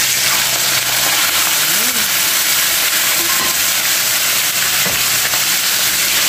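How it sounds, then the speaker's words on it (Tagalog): Fish frying in hot oil, a loud, steady sizzle and crackle that runs unbroken close by throughout. "magpe-preto na tayo ng isda"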